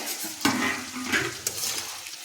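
Winter vegetables such as carrot and beet fry on a low flame in a covered pan, with a clatter of the lid or spatula against the pan followed by soft sizzling and intermittent stirring scrapes nearby.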